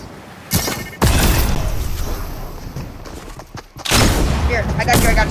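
Gunfire in the Fortnite video game comes as several sharp, loud bursts of shots with a rumbling, chaotic game soundscape in between.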